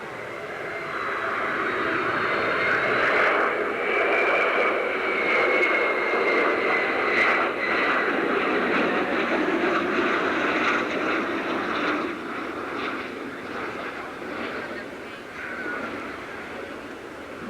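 A Concorde supersonic jet airliner passing at the 1986 Abbotsford International Airshow, a loud sustained roar that swells and slowly fades.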